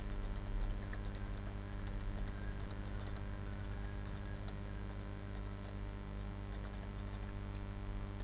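Fingers tap on a computer keyboard while filling in a spreadsheet, giving soft, irregular clicks in quick bursts over a steady low electrical hum, faint and close, with no talking.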